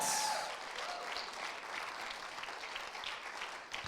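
Church congregation clapping during a worship service, a dense steady wash of applause lasting throughout with no talking over it.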